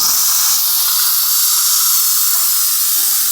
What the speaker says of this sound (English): we're gonna go ahead and just let it vent out all the steam